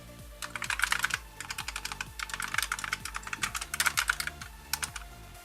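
Red linear switches on an A4Tech Bloody B820R mechanical keyboard clatter in quick, dense bursts of keystrokes, close and clear, with short pauses between runs and no voices.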